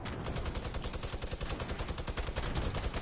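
Dense, rapid gunfire from the Fortnite video game crackles in continuous bursts, closely spaced shots blurring into a steady rattle with no talking.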